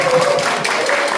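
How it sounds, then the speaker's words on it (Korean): Brief scattered applause from an audience in a Korean regional forum hall, a short burst of clapping with faint murmurs. "오늘 우리 박형규 교장선생 계시는데 원예고등학교 우리 교장선생 감사의 박수 좀 부탁드리겠습니다"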